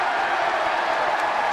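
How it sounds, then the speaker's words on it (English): A Dodgers baseball crowd lets out a brief sarcastic cheer, a steady broad wash of distant voices filling the stadium without pause. "Sarcastic cheer from the crowd"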